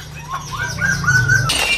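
A long-tailed white-rumped shama (murai bahorok) sings a run of clear, rising whistled notes, close and fairly loud, ending in a brief harsh burst.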